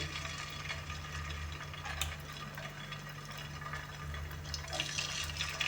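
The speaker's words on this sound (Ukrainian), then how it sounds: "Олію в сковорідці розігріли і накладаємо наші відбивні." Chicken fillet chops sizzle in hot oil in a frying pan, a soft, constant crackling hiss with scattered small pops over a low steady hum.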